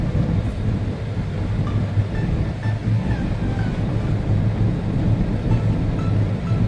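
Rain falls on a Daihatsu Move as it drives, making a steady, dense hiss and wash of water with a low rumble of road noise, continuous and fairly loud, with no voices.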